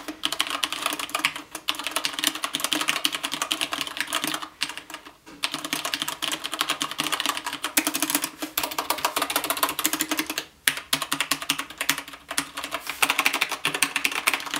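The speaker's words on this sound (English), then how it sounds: "I'll put a sample audio so you guys can hear exactly how loud it is when you get typing" Rapid, continuous clacking of keys on a SteelSeries 6Gv2 mechanical gaming keyboard, typed at a steady fast pace with a few short pauses, loud and close.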